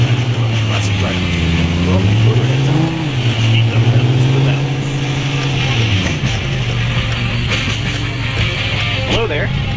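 A Volkswagen Arteon drives through Rome in Taxi Sim 2020, a steady loud engine drone rising and falling in pitch as it accelerates and shifts, with music and voices running underneath throughout.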